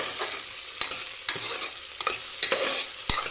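Cucumber pieces being stirred in hot oil in a pan, a steady soft sizzle broken by several sharp scrapes and knocks of the spoon against the pan, close and alone with no talk.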